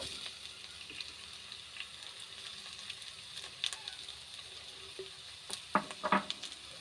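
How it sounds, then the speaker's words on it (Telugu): Carrot and bitter gourd curry frying in a pan, giving a steady low sizzle throughout with a few sharper crackles and pops near the end, no talking. "క్యారెట్ కాకరకాయ ఫ్రై అవుతున్నప్పుడు"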